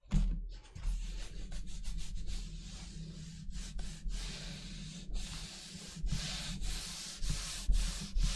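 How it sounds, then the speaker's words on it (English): Fabric being rubbed by hand onto a gel printing plate: continuous close scratchy rubbing strokes in irregular rhythm, with a low steady hum underneath and no talking. "after I rub this a little bit more"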